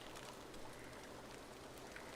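Rain falling under trees in a survival crafting video game, a soft continuous patter of drops on foliage and ground with faint bird calls, quiet and even throughout.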